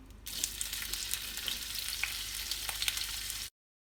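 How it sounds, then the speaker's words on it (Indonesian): Shrimp sizzle loudly in a hot pan, a dense, continuous frying crackle with light stirring scrapes that cuts off abruptly near the end. "Masukkan udang, ditumis."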